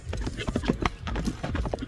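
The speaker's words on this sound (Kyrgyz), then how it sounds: "Мына атты байкаңыздар. Чабып кетти жаныбар." A horse gallops during a race, its rapid drumming hoofbeats repeating steadily throughout while a commentator talks over them.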